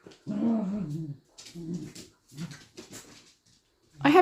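Dogs on a farm let out harmonic whimpers and short yelps in several bursts, close by and fairly loud, with quiet gaps between them and a sharper cry at the end.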